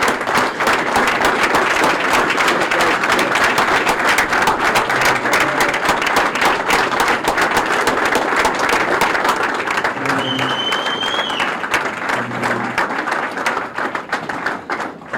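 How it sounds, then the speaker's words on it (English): Loud, sustained applause and crowd clapping for a graduating class at a 2016 graduation ceremony, with many sharp individual claps and brief tonal sounds near the end before it starts to taper off. "so let's give them a big round of applause."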